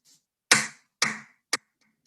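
Three sharp hand claps, spaced about half a second apart, demonstrating a classroom attention technique; close, crisp and alone, with no talk over them.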